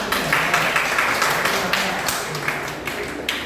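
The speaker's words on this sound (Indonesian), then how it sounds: "Tepuk tangan." Classroom applause from students answering a teacher's question, a steady patter of many hands clapping at moderate loudness with faint voices underneath.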